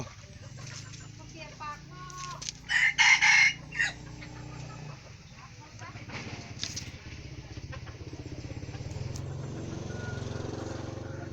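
A young six-month-old rooster crows once, loud and fairly close, over a steady background rumble of traffic and faint voices.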